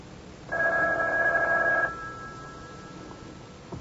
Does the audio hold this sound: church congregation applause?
no